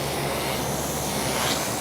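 A Heli-Max Axe 100 CP micro RC helicopter flies nearby with a steady, high-pitched motor whine and rotor buzz, continuous and fairly loud.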